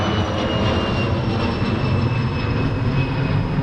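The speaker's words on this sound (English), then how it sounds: "Here goes a plane." A fixed-wing airplane passes overhead near a historic house and cemetery beside a mall, its engine a loud, steady roar with a whining tone, filling the whole stretch with no talk.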